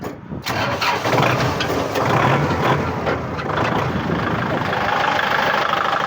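A new vehicle's engine, presumably at a farm-equipment dealer, roars loudly as the throttle is pressed, sustaining a steady, heavy rev close by for several seconds with a voice faintly under it.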